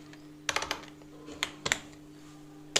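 Keys clack on a computer keyboard as the name 'raj' is typed into a Kali Linux terminal, a few quick close taps in small clusters over a steady low electrical hum.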